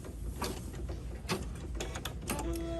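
Embroidery machine stitching a key fob, a busy, rapid mechanical rattle and ticking that runs continuously and fairly close.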